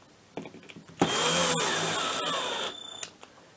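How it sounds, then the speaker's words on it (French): An electric screwdriver whirs steadily for about two seconds, close and loud, driving a screw into a motorcycle cylinder with a repaired thread, preceded by faint handling clicks and ending with a brief stop. "J'essaye de pas trop de trop serrer la visseuse parce que"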